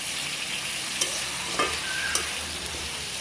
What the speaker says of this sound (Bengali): তো এইরকম যখন সবজিটা ভাজা হয়ে আসে, খুব সুন্দর গন্ধ আসে।